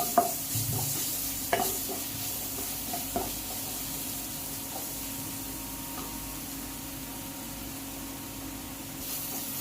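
Onion masala with turmeric powder is stirred and sautéed in a pan for egg curry, producing a continuous soft sizzle with a few sharp scraping knocks near the start.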